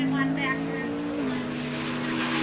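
A Chevrolet Nova drag race car roars steadily and loudly down the drag strip, its engine drone holding a high pitch before dropping slightly, with an announcer talking over it.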